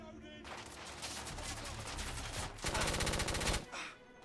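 Machine pistol gunfire in the video game The Order: 1886 comes as loud, dense bursts of rapid automatic shots, with a sharper, faster string of rounds near the end before it cuts off.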